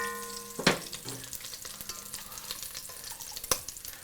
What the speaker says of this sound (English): throw the bacon back in. We're going to saute it for about 2 to 3 minutes